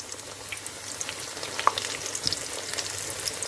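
Sago vada fritters fry in oil with a dense, even crackling sizzle and scattered sharp spits and pops. The sound is close and steady, with no voices.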